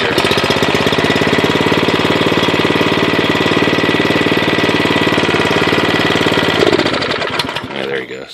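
A Troy-Bilt Proline rototiller engine runs on choke, a loud, rapid, steady putter with a rough chugging rhythm that holds for several seconds, then falters and sputters toward the end.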